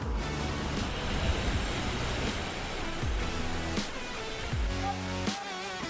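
A Toyota Hilux 4WD drives through water, a loud continuous rushing splash over the engine's rumble, with engine pitch rising and falling as the vehicle pushes through.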